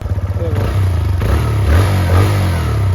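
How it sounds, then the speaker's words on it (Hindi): A two-year-old TVS Raider motorcycle engine revs close by, its low, throbbing note rising and settling in steady pulses throughout, with what sounds like a voice mixed faintly underneath. "बिल्कुल भाई नया जैसा साउंड है, जैसी नई बाइक साउंड करती है।"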